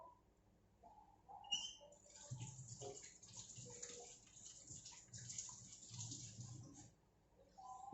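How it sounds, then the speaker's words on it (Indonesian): Hands are washed under running tap water in a home kitchen during beef meatball preparation. The faint, steady trickle and splash sounds fairly distant, with a few bird chirps and coos in the background. "cuci tangan dulu."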